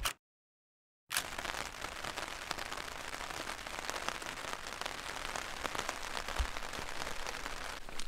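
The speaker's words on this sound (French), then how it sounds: "Il pleut depuis ce matin, ça fait 3 heures qu'il pleut" Steady rain falling during a mountain hike on the GR5 in the Vanoise, a dense continuous patter of drops on surfaces after a brief silent gap at the start, close and even throughout with no talk.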